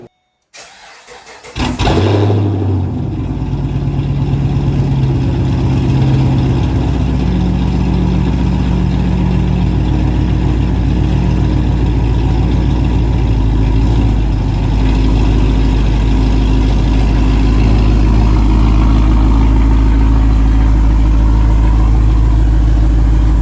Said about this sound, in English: let me go ahead and give y'all a cold start